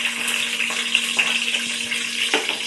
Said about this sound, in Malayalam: ഇതിലേക്ക് ഞാൻ ഒരു നീരുള്ളി ചെറുതായി മുറിച്ചത് ഞാൻ ഇടുന്നുണ്ട്